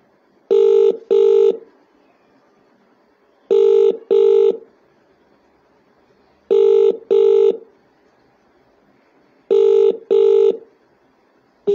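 Telephone ringback tone on an outgoing phone call, sounding as loud paired electronic tone bursts that repeat four times at an even pace with silence between, with no talk.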